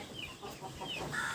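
Native village hens clucking inside a pen, a flock of small chickens with soft, overlapping clucks and brief calls, moderately close and steady, with no voices.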